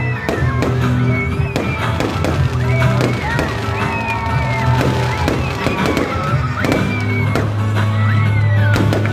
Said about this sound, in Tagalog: At sasaksiyan natin ang ating fireworks display.